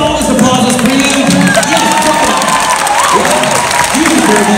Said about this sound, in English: All this applause is for you.